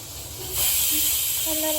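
A pressure cooker whistle hissing steam, a loud, steady jet that swells up partway through and holds, with faint background sound under it.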